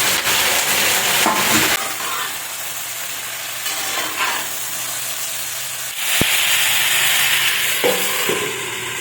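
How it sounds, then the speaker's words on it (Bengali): Potato, carrot and cauliflower fry in hot oil in a wok, a loud sizzle and hiss with stirring scrapes, fading after a sharp burst then rising again near the end. "কড়াইতে তেল দিয়ে প্রথমেই আলু আর গাজরটাকে ভেজে নেব।"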